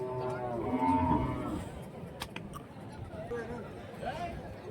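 Cattle moo loudly at a busy cattle market in Kundarapalli, Krishnagiri district, a long low call up close over a background of crowd chatter and voices.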